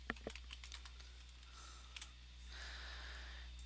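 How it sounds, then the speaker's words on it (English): Light clicking keystrokes on a computer keyboard, typed in short irregular bursts with pauses, faint and close against a steady low electrical hum. "Okay, so I'm going to type Winter Wonderland."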